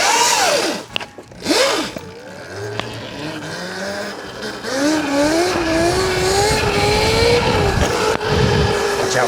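An RC car spinning out on leaves at about 20 miles an hour, with high whining motor pitch sweeps and scrabbling tire noise, loud and close outdoors, while faint voices talk in the background.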